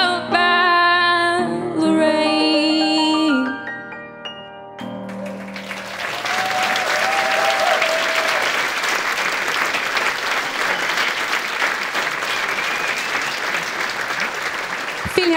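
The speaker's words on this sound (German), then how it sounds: "Großen Applaus noch einmal für die Marie Marcon mit Valerie." An audience at a key handover ceremony for a renovated technical school breaks into loud, sustained applause right after a sung musical performance with piano fades out. The clapping is dense and steady and carries on to the end.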